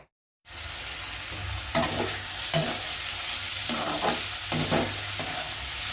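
Bottle gourd peel and potatoes fry in a pan, starting after a brief silence into a steady close sizzle with a few louder stirring scrapes, no talking.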